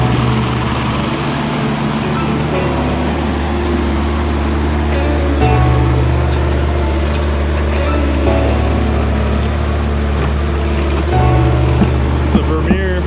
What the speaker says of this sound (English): So we rented a walk behind track skid.